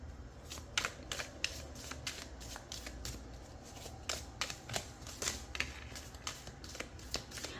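Tarot cards being shuffled and drawn, with a rapid run of crisp riffling clicks in irregular bursts, close and steady throughout, no talking.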